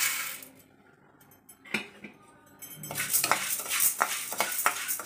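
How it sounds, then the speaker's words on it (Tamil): Toor dal dry-roasts in a pan with quick metallic scrapes and clinks of a utensil stirring the lentils, quieter at first and then growing busier and louder toward the end, with no one talking. "இந்த துவரம் பருப்பையும் பொன்னிறமாக வறுத்து எடுத்துக்கணும்"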